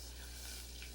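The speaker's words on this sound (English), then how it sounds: "Listen to that sizzle." Food sizzles in a hot pan with a steady, close, hissing crackle and no voices, while onion and spices are being cooked on a cooking show.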